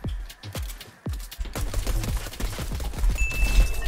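A pistol fires repeatedly in Fortnite: a quick run of sharp, close shots with ringing tails, followed by denser overlapping gunfire and game effects.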